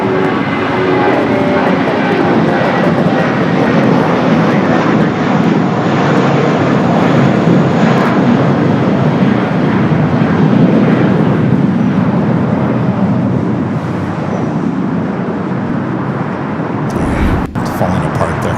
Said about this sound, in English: We do have a United Dreamliner coming from Newark, flight 2692, next arrival on 25 left.